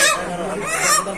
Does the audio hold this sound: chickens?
yes